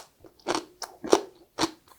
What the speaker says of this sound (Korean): 식감 소리 들리시죠? 굉장히 오돌오돌한.